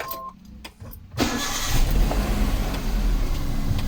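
A Hyundai Eon car engine cranks briefly and catches, then settles into a loud, steady close idle rumble after a short quiet start with a few clicks.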